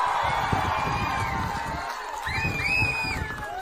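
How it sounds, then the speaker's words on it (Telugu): A crowd at an outdoor TDP political rally claps and cheers with a steady mix of applause, shouts and whoops. The sound is moderately distant, and whistles and high calls rise near the end. "గట్టిగా చప్పట్లు కొట్టి హర్షాన్ని,"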